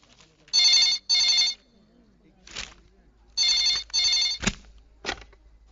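An old-style telephone bell rings in two double bursts, loud and close, with brief clicks and bumps between the rings.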